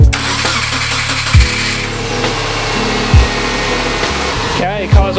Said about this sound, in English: Okay, car's on.